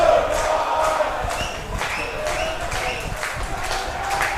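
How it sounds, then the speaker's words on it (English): Crowd noise swells at an Australian football grand final in Townsville, a steady broad roar of cheering and shouting with some clapping, sustained throughout with small surges. "The crowd really starting to get into it here."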